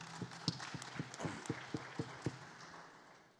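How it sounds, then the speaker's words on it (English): A small panel-discussion audience applauds for about three seconds, a steady wash of clapping with a few sharper, evenly spaced claps standing out near the microphone, then the applause tapers off. "Let's give a round of applause."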